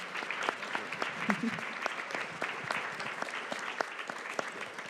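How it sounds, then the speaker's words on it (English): Audience clapping fills the room, a sustained round of applause with scattered sharp claps, moderately distant and steady throughout. "Big applause for our 3 guests tonight."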